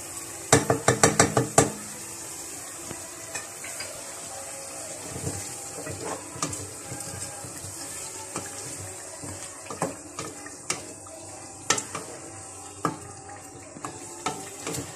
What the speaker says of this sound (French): Je laisse tout ça mijoter pendant une dizaine de minutes